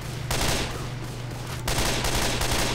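Rapid, dense gunfire from Left 4 Dead 2 rattles on continuously and loud, with a steady low hum underneath and a brief break in the shooting near the middle.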